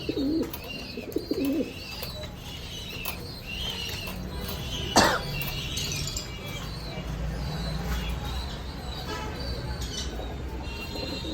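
Red Lahori fancy pigeons coo softly and repeatedly at close range, low throaty calls scattered over a steady background hum, with a short sharp knock near the middle.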